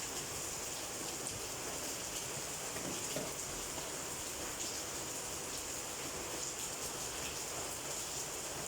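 Steady rain falling during a thunderstorm, a continuous soft hiss of drops on surfaces with no thunder claps, fairly faint and even throughout.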